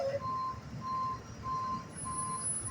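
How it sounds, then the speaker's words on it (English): Truck reversing alarm during a Carvana vehicle delivery drop-off, four evenly spaced high beeps repeating at a steady pace over a low, rumbling engine idle at moderate distance. "It's like a Carvana truck drop off."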